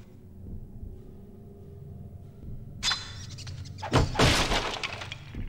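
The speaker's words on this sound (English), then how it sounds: "Gotta keep smashing those boxes." Wooden boxes smashed apart in the horror game The Suffering, two or three sharp crashing breaks near the end after a quiet rumbling stretch, close and fairly loud.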